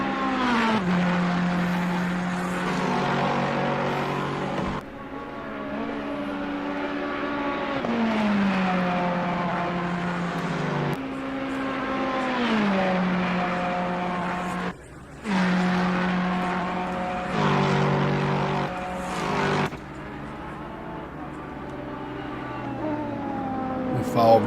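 Sim racing game cars, including a number 10 Lexus and Ferraris, run on track with steady engine drones and shifting pitches, gear changes and brief dips at every few seconds, heard under continuous commentary.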